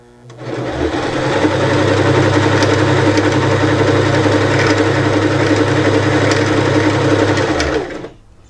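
A sewing machine winds thread onto a bobbin, its motor humming steadily and loudly up close for about seven seconds before spinning down, with no voices.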